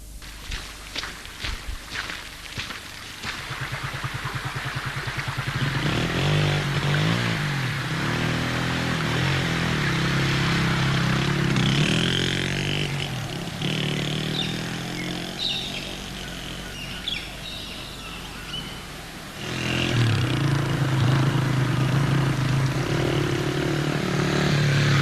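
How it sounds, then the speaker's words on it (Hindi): A motorcycle engine starts after several sharp kicks or clicks, then idles and revs with a steady rumble that rises and falls, with birds chirping faintly in the background. "जाओ जल्दी से स्टार्ट करो मोटरसाइकिल"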